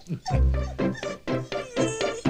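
Several dogs bark and yip in quick, uneven bursts, close and fairly loud, in a film trailer. Some whimpering is mixed in.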